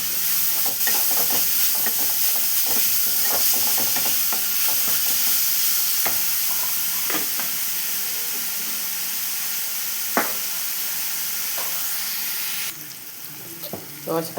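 Curry simmering and frying in a pot on a home stove, a steady soft sizzle and hiss with scattered light clicks and stirring scrapes, ending with a brief clatter.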